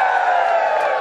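A dense crowd at a Brighton swimwear contest cheers and shouts in a continuous, loud roar of voices, steady throughout the short moment.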